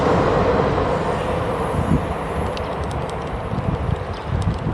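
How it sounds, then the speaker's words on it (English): An above-ground train rumbles past at moderate distance, a steady rolling roar with faint rhythmic clatter. "There's a train going past."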